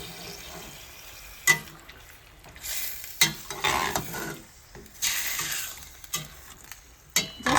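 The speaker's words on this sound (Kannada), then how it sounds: "ಚೆನ್ನಾಗಿ ಫ್ರೈ ಮಾಡ್ಕೊಳ್ತೇನೆ" Marinated chicken frying with tomato and onion in a pan, steady sizzle with several sharp stirring scrapes and clatters of a spoon against the pan, no talking.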